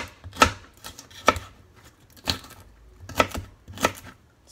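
Fresh garden vegetables for aloo gobi chopped on a cutting board, a series of crisp, crunchy knife strikes in an uneven rhythm, close and moderately quiet.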